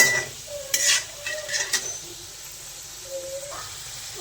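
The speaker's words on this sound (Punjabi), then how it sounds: "ਆਲੂਆਂ ਨੂੰ ਆਪਾਂ ਚੰਗੀ ਤਰ੍ਹਾਂ ਫਰਾਈ ਕਰ ਲੈਣਾ ਜੀ ਭੁੰਨ ਲੈਣਾ" Potatoes frying and sizzling in a pan for aloo gobhi matar, with a steady hiss and several scraping stirs of a spatula, close and moderately loud, with no talking.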